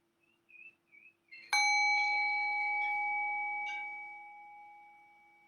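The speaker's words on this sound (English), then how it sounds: "Rest your thinking mind on the tone of the bell." A meditation bell is struck once after a few faint tones, then rings out with a clear, sustained, shimmering tone that slowly decays toward silence.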